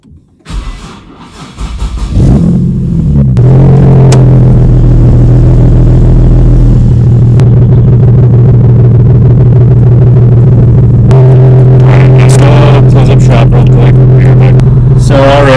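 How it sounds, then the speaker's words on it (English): A Nissan 370Z drift project car starts up and its engine settles into a loud, close, steady drone, with a change in pitch toward the end as it moves off on a gravel road. "I'm going to go take it for a quick test drive, bring you guys along"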